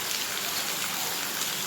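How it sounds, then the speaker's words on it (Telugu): Heavy northeast-monsoon rain falls steadily over a village in Rayalaseema, a dense, even hiss of drops that holds without a break, with no voices. "నిన్నటి నుంచి వర్షం బాగా పడుతుంది"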